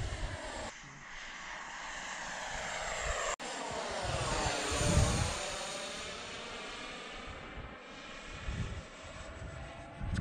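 An Arrows F-15 model jet flies past outdoors in the wind, its engine tone building and sweeping through a clear Doppler shift as it passes close, then receding into a steady distant whine.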